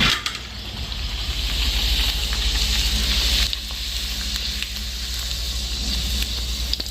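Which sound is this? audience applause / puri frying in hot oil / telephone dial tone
puri frying in hot oil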